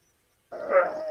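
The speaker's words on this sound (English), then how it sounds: "Who has dogs in the background?" A dog gives one short, faint yelp in the background, as if dogs were tussling over a rope, after a moment of near silence.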